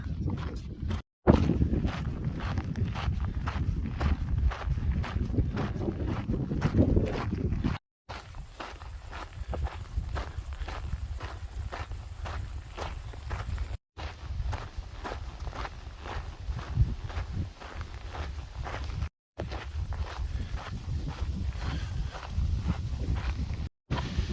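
Steady footsteps crunch along an outdoor path on the Camino de Santiago between Hontanas and Boadilla del Camino, over gusty wind noise buffeting the microphone on a hot afternoon, with a few short breaks.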